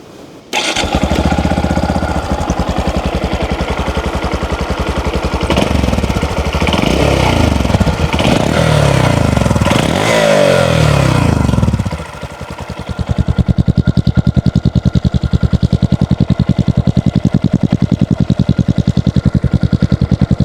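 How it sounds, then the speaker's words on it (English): A Honda Monkey 125 motorcycle engine in stock form starts, runs loudly, and revs up and down, briefly dropping before settling into a rapid, steady idle putter; close and loud. "Let me start up the motorcycle and show you what it sounds like."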